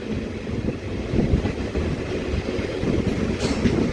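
Train pulling away from Kakirigumma station on the Rayagada to Koraput line, heard from inside a general coach as a steady low rumble with rolling wheel noise and a little wind, no talking.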